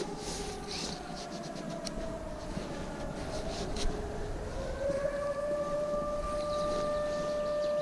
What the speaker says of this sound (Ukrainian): Ви чуєте звуки сирени, як завжди.